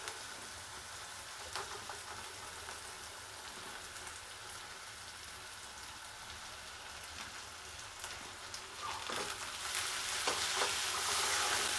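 Onions with tomatoes sauté in a pan, giving a steady, soft, rain-like sizzle that swells near the end, with a few scraping stir strokes and no speech.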